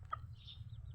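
Native chickens brought from Asturias, Cebu give a faint single cluck and a soft call over a low steady background hum.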